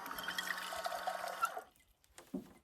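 Water runs steadily from a camp kitchen tap built into a Toyota Tacoma, then cuts off, leaving a few faint drips and a soft knock.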